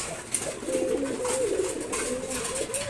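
Racing pigeons cooing inside a loft at morning feeding time, soft repeated throaty coos close by with no talking.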